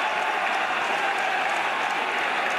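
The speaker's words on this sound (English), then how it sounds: "The crowd willing him on." Wrestling crowd in an arena cheering and applauding steadily while a wrestler on his knees tries to beat the referee's count after being thrown into chairs; loud, continuous roar of clapping with no break.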